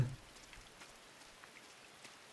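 Steady rain falls in a game scene where a pig lies dead in the downpour, a soft continuous hiss of drops with faint scattered patters, no voices.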